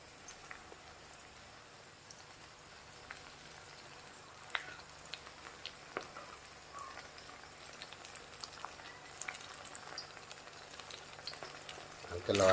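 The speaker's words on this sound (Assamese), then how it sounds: "মোৰ পিঁয়াজখিনি ইতিমধ্যে অলপ ৰঙচুৱা হৈছে। এতিয়া ইয়াত মই দিম মছলা।" Onions and masala spices fry in a pan for a meat dish, a faint continuous low sizzle with scattered crackles and occasional clicks of stirring, quiet and close.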